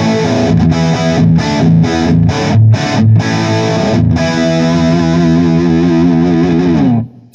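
Distorted electric guitar on the lead channel of a Marshall 2555X Silver Jubilee amp with the middle control turned down, played loud: a run of chopped chords, then one long sustained chord that rings out and cuts off near the end.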